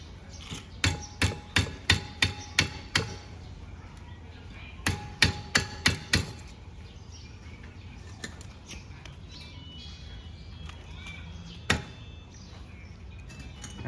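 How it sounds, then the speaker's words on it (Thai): Sharp metallic hammer blows drive a cotter pin out of a Honda Wave 125 motorcycle's handlebar end, in two quick runs of about half a dozen strikes each, followed by a lone strike later amid quiet background. "พับลงไปแล้วเราค่อยๆตอกมันออกมาอีกทีหนึ่งนะครับ"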